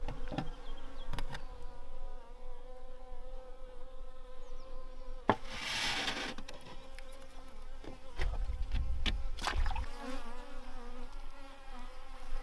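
Honeybees buzz around three beehives at an off-grid cabin in spring, a steady close droning hum with individual bees passing near and away, accompanied by brief rustling noises.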